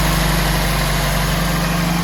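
A classic Fiat Panda 4x4's engine idles steadily, a low hum and vibration continuing at close range, with no other sounds.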